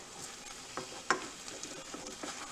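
A Monte Cristo sandwich fries in an oiled stainless steel pan, a soft, steady sizzle with a few light taps and scrapes, one sharper knock midway, no talking.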